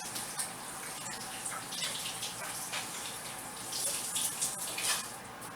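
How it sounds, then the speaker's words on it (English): Hands are washed under a running kitchen tap after handling raw pork, a steady splashing water stream with slight surges, close by and continuous, with no talking. "I definitely wanted to wash my hands because that is meat"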